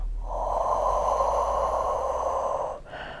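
A single long, forceful exhale during a standing Pilates exercise for seniors, a close, breathy rush of air lasting over two seconds, followed by a brief softer breath.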